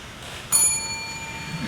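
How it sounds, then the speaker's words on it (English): A single bright timer bell ding at a mayoral debate rings out, clear and close, with a lingering metallic ring that fades over a second. "when time is up, you will hear a bell"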